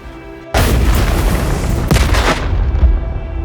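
A car bomb detonates against a bus with a sudden loud boom, and a dense, roaring blast rumbles on for a few seconds before it thins out, with no voices.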